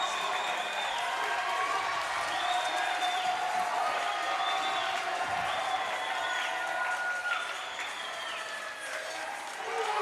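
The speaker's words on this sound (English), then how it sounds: "Crowd going absolutely wild." Spectators at the Adaptive CrossFit Games cheer and applaud loudly and continuously, with whoops and shouts rising above a dense wash of clapping.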